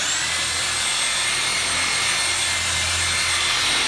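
A machine polisher running at about 2500 to 2700 RPM, buffing dull, weathered car paint: a steady, loud whirring and rubbing drone that holds constant throughout, close by with no speech.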